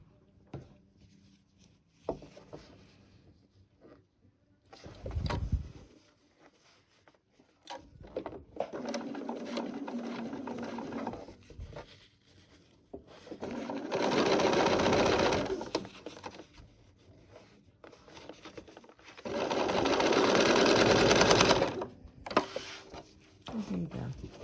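An electric sewing machine stitches quilt pieces for a peppermint pinwheel block in three steady whirring runs of a few seconds each, separated by pauses where a voice talks.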